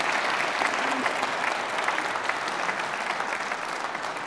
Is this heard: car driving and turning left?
no